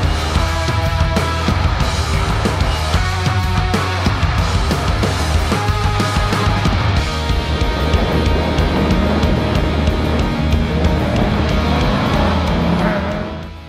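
A stock Dodge Viper driven hard around a race course roars continuously at close range, engine noise steady and loud with wind buffeting the microphone.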